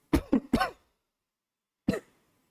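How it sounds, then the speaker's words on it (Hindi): A man coughs three times in quick succession close into a microphone, then gives one more single cough after a short silence. "अरे सॉरी यार, माइक पे खांस दिया"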